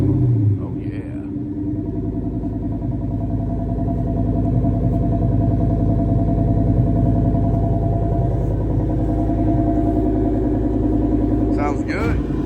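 A Ford Mustang Mach 1 with a 4V engine settles into a steady, deep rumbling idle close by after a brief burst at the start, holding loud and even throughout while speech is heard in places.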